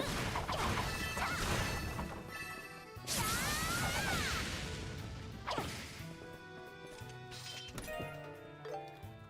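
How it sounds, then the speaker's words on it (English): Boxes smashed open in the game Trails in the Sky: a run of sharp cracking crashes and whooshing swipes, a loud burst with a chiming sparkle near the middle, then scattered thuds and clinks, with no talking. "Isn't there nothing more fun than just smashing open a bunch of boxes? In a game, at least."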